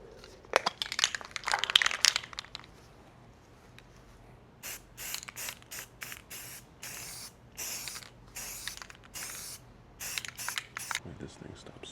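Short bursts of aerosol spray paint hiss across a guitar body during a second coat, arriving in a rapid series of close hisses with rattling and crinkling between them, while someone talks briefly.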